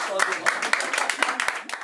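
Audience at a French youth festival forum clapping, fairly close and lively, with sharp individual hand strikes standing out from the crowd wash and some voices mixed in.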